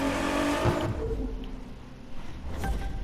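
A Ford car engine in The Crew 2 video game revs hard and accelerates, a loud buzzing roar that rises and then eases off.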